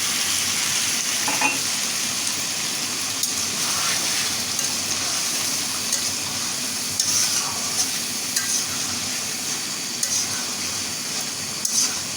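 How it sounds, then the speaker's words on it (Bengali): Chicken pieces with spices stir-fried in a pan, a loud, continuous crackling sizzle close by, with occasional spatula knocks and scrapes and no voices. "মাংসের সাথে মশলাটা অনেক ভালোভাবে কষিয়ে নিলাম"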